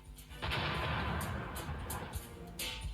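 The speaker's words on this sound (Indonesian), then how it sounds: "kapal tersebut meledak hebat dan merusak badan kapal" A sudden loud, rumbling roar as a boat explodes, staying dense and noisy like a heavy blast with crashing debris, sharper cracks flaring near the end.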